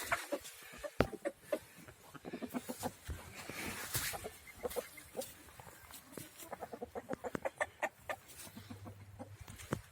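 Several chickens leaving their coop cluck in quick, uneven bursts, fairly close and loud, with a low steady hum underneath and no talking.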